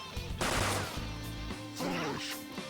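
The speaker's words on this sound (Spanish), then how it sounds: "Disparo de derribo" Knockdown-shot gunfire in the video game Persona 5 Royal: a couple of loud, sharp blasts with crashing impacts in quick succession, heard alongside game effects.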